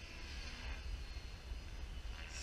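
A radio-controlled sport flyer model airplane drones steadily overhead with a continuous motor buzz, moderately distant and fairly faint, without pauses.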